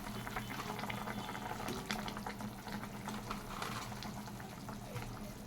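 A pot of sour mango dal with lentil fritters bubbles at a rolling boil, a continuous close, wet burble with no talk.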